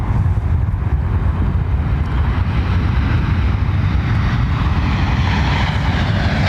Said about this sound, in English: It was the Embraer, the E2.